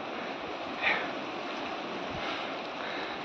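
Sea waves at Harihareshwar beach wash in a broad, continuous hiss of surf with light wind, fairly faint and steady, with no voices.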